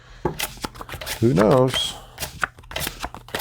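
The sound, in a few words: shuffling playing cards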